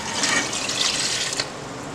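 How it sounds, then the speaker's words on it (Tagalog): Water runs steadily into a cooking pot for pork sinigang, a continuous splashing, bubbling pour heard up close with no talk. "Now, mag-add tag tubig."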